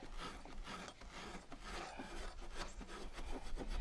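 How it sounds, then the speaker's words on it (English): Rust is scrubbed off a part on a 2010 Dodge Caravan with steady, quiet rasping strokes that repeat back and forth without pause. "I want to get this rust off of here"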